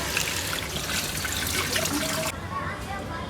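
Tap water runs and splashes steadily while someone washes their hands and face at a sink. The flow is close and fairly loud, then drops to a softer trickle near the end.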